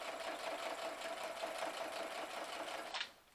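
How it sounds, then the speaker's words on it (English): A sewing machine stitches around a junk journal scrapbook, a fast steady mechanical whirring hum running without pause before stopping abruptly near the end. "Don't let it get in my way or lay down in front of me, because I'm gonna sew it."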